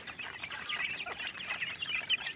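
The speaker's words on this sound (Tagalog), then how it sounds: "Pukpukan talaga ng kanilang mga kaibigan sa kanilang patuka." Two-month-old chicks pecking at feed in their pen, a dense mix of soft high cheeps and chirps with rapid light taps, close and busy throughout, no voices.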